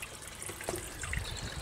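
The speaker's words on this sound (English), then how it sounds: "You can see water running down now" Water trickles down a street into a storm drain, a soft continuous running and dribbling heard faintly outdoors for a couple of seconds, with no talk.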